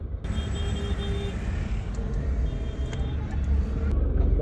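Dense highway traffic rolls past in a continuous road roar, with engines, the hiss of a bus or truck brake and occasional tonal whines, all close and steady with no clear talk.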